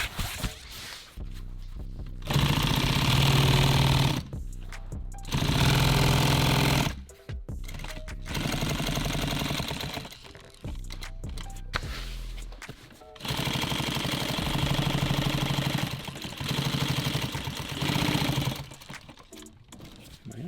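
A sewing machine stitching a nylon clothes bag, running in loud bursts of a few seconds each, separated by pauses with handling noises, close to the machine.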